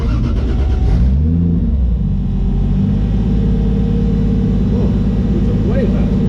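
A Datsun drag car idles on the brake with its two-step engaged, giving a loud, steady engine rumble that holds constant for several seconds, heard near, with a brief rise early on.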